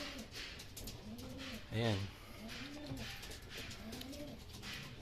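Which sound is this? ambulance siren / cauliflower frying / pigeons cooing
pigeons cooing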